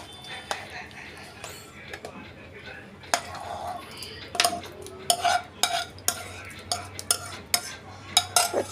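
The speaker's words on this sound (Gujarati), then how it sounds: "કાજુ નાખી દઈએ." Cashews are tipped into a pan and stirred for kaju curry, with sharp irregular clinks and scrapes of a spoon against the pan over a faint low sizzle, while a voice speaks intermittently.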